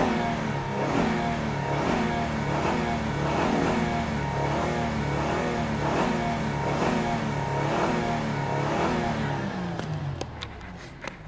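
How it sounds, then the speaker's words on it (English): The engine of a 2013 Honda Pilot with about 94,000 miles runs steadily nearby, a continuous mid-pitched hum with slight rhythmic pulsing that eases off toward the end, with faint clicks following. "Runs like it should, idles great"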